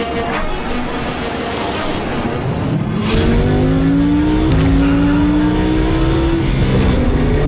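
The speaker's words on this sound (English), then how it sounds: "This car is called Lamborghini Huracan" A Lamborghini Huracan Performante roars loudly nearby, the engine climbing through rising revs in long pulls, with brief squeal-like bursts on top.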